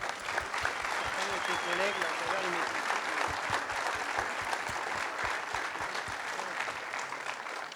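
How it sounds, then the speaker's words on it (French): An audience at a 50th-anniversary gathering applauds steadily for several seconds, with individual claps distinct and some voices murmuring underneath. "on peut applaudir à nouveau"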